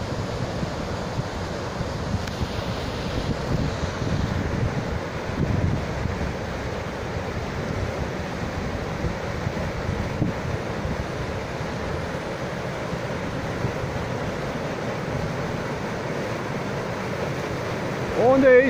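Waterfall pouring into Pljuskavac pool on the Taor river, a steady broadband roar of falling water with wind buffeting the microphone throughout.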